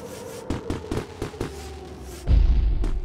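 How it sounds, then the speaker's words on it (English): Fireworks burst in the video game Beacon Pines: a quick string of five or six soft popping bangs, then a deeper, louder boom with low rumbling crackle that trails off. "Fireworks!"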